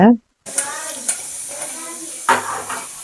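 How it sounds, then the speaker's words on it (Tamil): Steady sizzling of shallots and tomatoes sautéing in a pan, with occasional stirring clinks and scrapes throughout. "வானலில் சின்ன வெங்காயம் ஒரு 10, தக்காளி ஒரு 2 எடுத்து நல்லா வதக்கிக்கோங்க."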